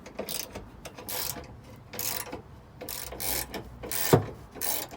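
Bolts on a Honda ST1100 motorcycle headlight bracket tightened bit by bit with a ratchet, giving repeated bursts of rapid close clicking separated by short pauses, with one sharper knock near the end.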